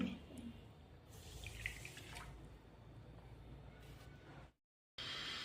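Water is poured into a pan of sugar for a semolina pitha syrup, a soft splashing pour with trickles and drips, followed by a short silence and then faint sound again.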